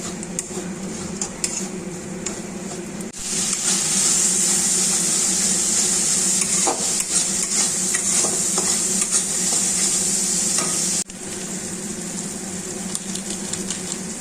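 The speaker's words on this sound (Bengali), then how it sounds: "আর এই মশলাটা কষাচ্ছি" Spice paste sautéed in oil in a pan right after fish has been fried: a steady sizzle with stirring scrapes that jumps louder after a few seconds, then eases slightly near the end, with no talking.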